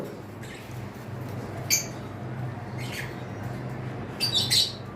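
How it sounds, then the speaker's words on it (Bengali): Cockatiels, including an albino pair, giving a few sharp squawks and chirps at intervals, mid-distance, over a steady low background rumble. "এখানে আমাদের কাছে দুই পেয়ার কোকাটেল রয়েছে যার মধ্যে একটা পেয়ার রয়েছে অ্যালবিনো"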